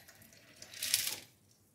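Water is poured into a blender with washed beans for moi moi, a brief splashing rush that swells and fades within about a second.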